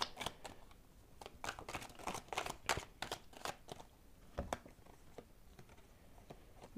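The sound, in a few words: handling and drawing oracle cards from a deck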